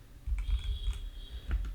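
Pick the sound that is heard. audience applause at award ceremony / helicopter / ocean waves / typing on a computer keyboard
typing on a computer keyboard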